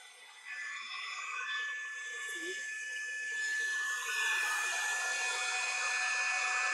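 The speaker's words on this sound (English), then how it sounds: "it really helps that it has hot air, because it really acts like a blower" A rotating hot air brush blows a steady, whirring rush of hot air during a blowout styling, close and continuous, swelling slightly louder toward the end with no talking.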